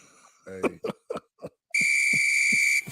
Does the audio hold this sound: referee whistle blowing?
yes